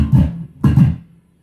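Two low, dull bass notes plucked about half a second apart, each thumping and decaying quickly, followed by silence.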